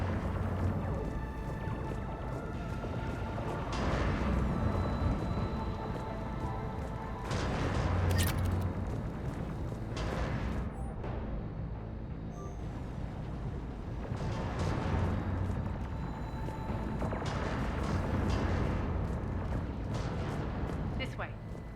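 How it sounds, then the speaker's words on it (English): Heavy cannon artillery fire rumbles through a Mass Effect 3 battle on Omega, with repeated booms and dense low roaring under a continuous layer of speech and combat noise. "Those cannons have to be stopped."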